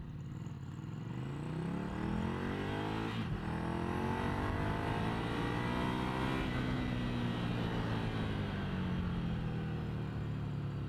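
A Ducati Scrambler 800 Icon motorcycle accelerates hard through the gears toward 100 km/h, its engine note sweeping up in pitch, dropping at a shift and climbing again, loud and close throughout.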